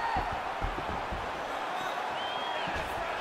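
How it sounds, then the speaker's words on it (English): Crowd noise from a UFC 4 video game fight, a steady arena murmur with swelling reactions during exchanges of strikes, thudding impacts low underneath, sustained throughout. "you hear the crowd react every time they come together"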